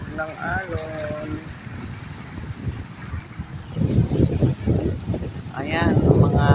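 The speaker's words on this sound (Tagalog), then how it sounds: "mga hampas ng alon" Ocean waves crash and wash in steady, broad surges with wind gusting across the microphone, growing louder toward the end, while a person talks briefly at the start and again near the close.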